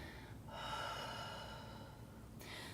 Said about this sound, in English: Open mouth, exhale out.